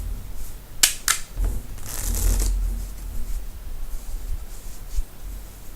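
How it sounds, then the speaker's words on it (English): A deck of playing cards being shuffled close up, with two quick riffle bursts followed by a longer rustling riffle, then soft handling noises; no talking. "And as you can see, I really am shuffling these cards."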